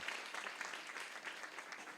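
A church congregation applauds loudly and steadily at a Friday prayer service, a dense continuous wash of clapping with no clear pauses.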